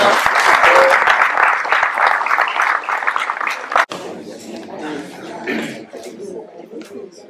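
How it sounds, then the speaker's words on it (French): A crowd at a town sports awards ceremony in Ploërmel gives warm applause as a trophy is presented. The clapping is full and close for several seconds, then drops away as a voice begins talking. "On peut la applaudir quand même."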